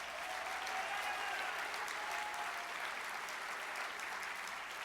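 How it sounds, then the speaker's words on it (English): A large audience at a general assembly claps and applauds steadily and continuously, a dense even wash of many hands that neither swells nor fades throughout. "Clap for them, please."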